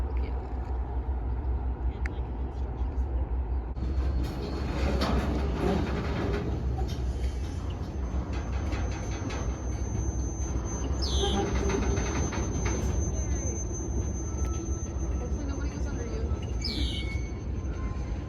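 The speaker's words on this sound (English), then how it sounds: "So while the train curves here" A train rolls steadily past on a curve with continuous rumbling and a thin high wheel squeal over the rails, while birds chirp nearby.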